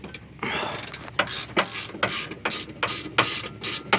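A hand ratchet works bolts off a suspension arm on a supercharged Honda NSX, producing close, loud bursts of rapid clicking in repeated strokes with brief pauses between swings.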